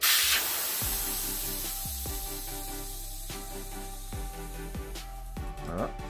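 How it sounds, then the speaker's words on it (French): Steady hiss of air escaping from the valve of a Dualtron Mini electric scooter tire as it is deflated, continuous and close, running under a bed of background music. "On dégonfle."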